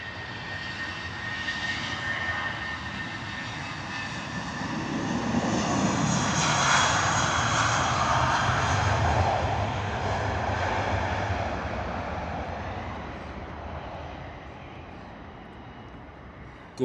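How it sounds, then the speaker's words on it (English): A British Airways Airbus A320, a 23-year-old 232 variant, rolls for takeoff at Heathrow, its jet engine roar building to a loud peak midway and then fading steadily as it moves away, with no talk over it. "British Airways 320 rolling off to Nice."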